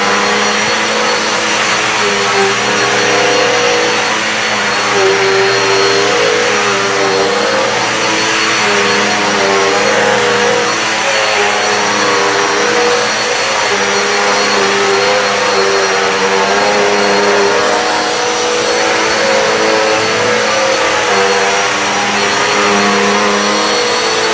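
A Dirt Devil vacuum cleaner runs steadily on matted hallway carpet, a loud, close, continuous motor whine with a slight wavering pitch and no talking.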